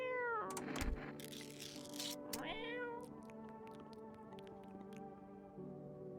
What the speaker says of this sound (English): We'll feed the cat cat food, and that should keep us through the next day